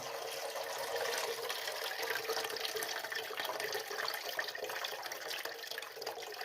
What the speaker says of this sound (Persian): خب اینجا آبکش میکنیم که پوستش گرفته بشه